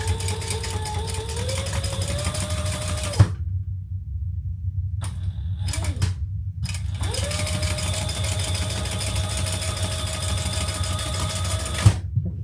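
Sewing machine top stitching leather, running in two long steady whirring bursts with a short pause and a few clicks between them, close and fairly loud.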